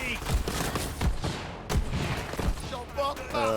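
Rapid gunfire from a newly picked-up weapon in the Borderlands 3 video game, several punchy shots in quick succession, mixed with game effects and background chatter.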